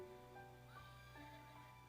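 A toddler's toy horse neighs in a quiet room, giving a faint electronic whinny with a steady, tonal hum beneath it and no speech.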